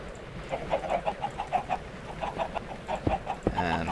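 Minecraft chickens cluck in a farm pen, giving a steady run of short, soft clucks over a low background hiss, with no talking.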